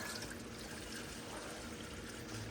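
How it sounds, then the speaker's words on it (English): Coffee spills and splashes in a steady, continuous wet pour that runs unbroken for the whole short stretch, with no talking over it. "Well, there went my coffee."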